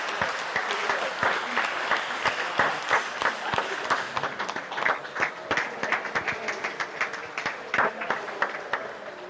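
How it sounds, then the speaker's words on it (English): A crowd at a squash semi-final cheers and applauds after match point, with dense clapping that thins into sharper, more separate claps toward the end. Some voices call out within the applause. "Crowd going crazy."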